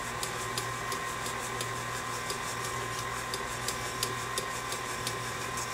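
An electric mixer hums steadily while mixing pound cake batter with sugar, giving a constant mechanical drone with light regular ticking throughout, moderately quiet and with no talking.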